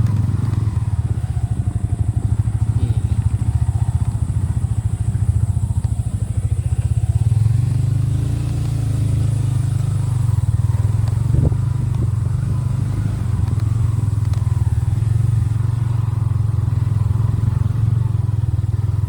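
A motorcycle engine runs on a mountain trail up Gunung Artapela via Pangalengan, a loud, steady, close drone that holds for the whole stretch with faint rattles and clatter and no voices.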